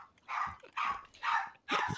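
A dog barks in four loud, evenly spaced bursts, close by and with no talk over it.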